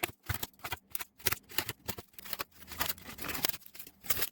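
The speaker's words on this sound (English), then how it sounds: "tear up chunks and throw the styrofoam in" Used, rinsed styrofoam containers are torn into chunks by hand: rapid, close squeaky crunches and snaps come in irregular bursts, with a denser run of tearing toward the end.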